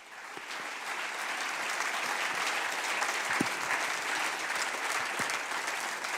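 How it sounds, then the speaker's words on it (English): A crowd at a live evening event honoring Israel applauds steadily, dense clapping that holds at an even level from start to finish, a few louder individual claps standing out. "let's honor Udi with a big hand of applause"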